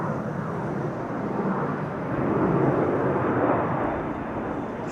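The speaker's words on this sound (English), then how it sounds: "It was lined up. Airborne already." A fixed-wing airliner takes off at Amsterdam Schiphol Airport, its engines a steady, broad roar heard from a distance that swells slightly midway, with no voices.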